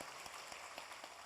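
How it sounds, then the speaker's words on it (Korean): A Sunday worship congregation in a Korean church claps steadily in soft, diffuse applause, faint and distant, with faint regular beats running through it. "우리 박수하겠습니다."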